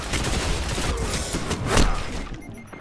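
The Red Death exotic pulse rifle fires during a Control match in Destiny. Rapid, loud bursts of gunfire crackle close by, with one sharp peak near the end before the shooting breaks off.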